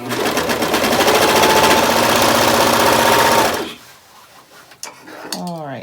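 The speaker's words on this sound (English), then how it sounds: "I'm just about finished on with my serging" A serger overlock sewing machine finishes a pillowcase seam with a loud, fast, steady mechanical whir for about three and a half seconds, then stops, followed by quieter handling clicks and rustles.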